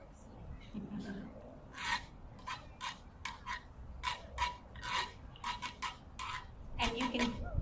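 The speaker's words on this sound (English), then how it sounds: "we have something called a güiro, and it sounds like this, the traditional instrument" A güiro is scraped in quick rhythmic strokes, raspy bursts repeating steadily over a low background murmur.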